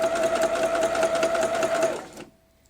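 A sewing machine stitches through a quilt block, a fast, even mechanical whir with rapid needle clatter for about two seconds before stopping abruptly, with faint background talk.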